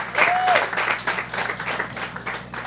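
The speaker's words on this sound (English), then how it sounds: "So let us give him a round of applause." A short burst of crowd applause at a community crime talk and hamper drive in Moruga, brisk clapping with a brief whistle near the start, fading slightly toward the end.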